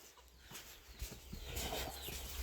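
Chickens clucking on a farm, soft scattered clucks and rustling under a steady background hiss, with the farmyard noise growing slightly busier toward the end.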